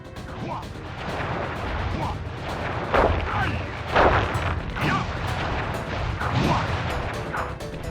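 Flame Foo firework attack in the PS2 game Sly Cooper and the Thievius Raccoonus: a string of booming, crackling bursts popping about once a second, loud and close over a continuous rumbling background.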